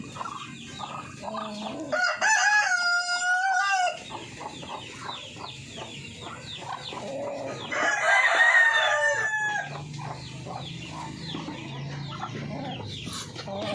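Chickens on a Filipino farm, with roosters crowing in two loud bursts against steady clucking and cheeping of chicks and hens throughout, no talk.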